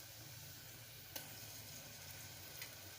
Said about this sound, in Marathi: आलं लसूण पेस्ट घालून एक दोन मिनिट छान असे परतवून घ्यायचे आहे